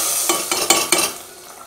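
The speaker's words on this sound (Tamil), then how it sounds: "இதுக்கு தாளிதம் சேர்த்திக்கலாம்." Hot oil crackles and sizzles in a pan, with several sharp bursts as tempering spices drop in for rasam, then settles to a steady hiss.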